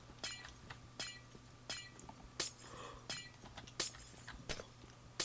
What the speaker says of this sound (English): Guess just time to break all this glass.